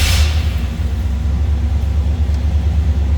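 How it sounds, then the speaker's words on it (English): A 1964 Oldsmobile Cutlass Convertible engine catches with a brief burst, then settles into a loud, close, steady low idle rumble. "Let's start it up. So you can hear it run."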